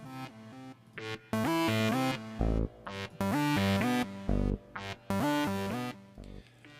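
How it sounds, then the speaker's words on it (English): A synthesizer riff of repeated bright notes with short deep bass notes on the ESM default sound punching in between, loud and rhythmic, no voices. "The final part of the riff is just a bass note that is played on the default sound of the ESM."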